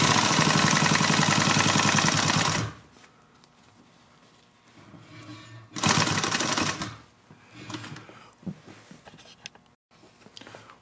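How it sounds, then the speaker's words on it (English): A sewing machine stitches down the long side of a pleated fabric face mask in two loud, steady runs of rapid needle chatter, separated by a quieter pause with faint handling and a short burst in between. "I'm going to turn the mask and sew back down the long side."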